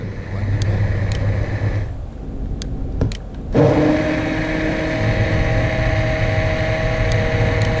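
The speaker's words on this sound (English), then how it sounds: "I'm using an immersion blender here, and blend it in." A handheld immersion blender whirs loudly and continuously through gravy, briefly cutting out and restarting with a higher-pitched motor drone that steadies as it churns.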